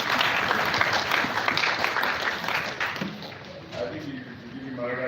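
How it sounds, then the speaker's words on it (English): Conference audience at an Africa Industrialization Day 2020 event applauds: sustained, fairly loud clapping for several seconds that eases off as a voice starts talking near the end. "I think you could give him another round of applause."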